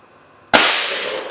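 An air cannon loaded with a foot-long piece of fine steel chain fires one sudden loud blast, a sharp crack followed by a fading rush.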